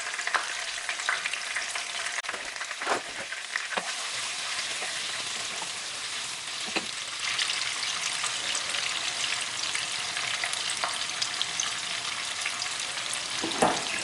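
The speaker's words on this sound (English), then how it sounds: "So I'm going to fry that for a few minutes and then add my peppers" Turkey curry base fries in a pan with a steady, dense sizzle, broken by a few sharper crackles and spits. It is close and loud throughout, with no talking.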